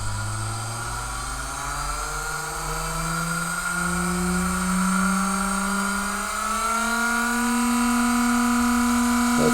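A small pulse motor spins steadily at about 18,000 RPM, giving a continuous high electric whine whose pitch rises slowly throughout, with a fainter buzzing underneath and no speech.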